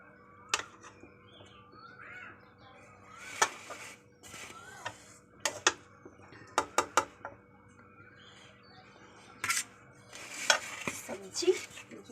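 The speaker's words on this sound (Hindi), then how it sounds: "फ्राई सब्जी है, देखिए आलू और कुदरुम का" Potato and kundru vegetables frying in a pan while a metal spoon stirs them, giving scattered scraping clinks and taps over a faint sizzle, with birds chirping in the background.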